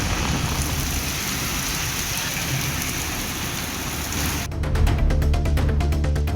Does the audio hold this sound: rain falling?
yes